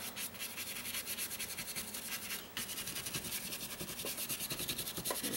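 A paintbrush loaded with black acrylic paint scrubs against a coaster in quick, repeated strokes, a soft, close scratchy rubbing that continues steadily with a brief pause midway.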